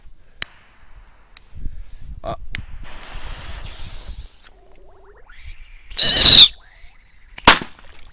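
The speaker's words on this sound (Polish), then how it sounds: "rakietka poleciała i całkiem głośno wybuchła. I pisk też nie był najcichszy" A sharp whistling screech rises, followed by a loud crack of an exploding Whistling Moon Traveller firework rocket, with scattered pops and rustling around it.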